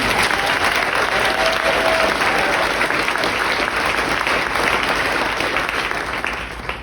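Audience at a chorus show applauds a performer, a dense, steady wash of clapping that holds loud throughout and eases slightly at the end.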